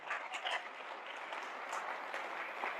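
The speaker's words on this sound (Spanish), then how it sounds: "Denle ese fuerte aplauso al Señor, porque ese es nuestro Dios." A church congregation claps for the Lord during a Spanish-language service, a steady, moderately distant wash of applause with no voices over it.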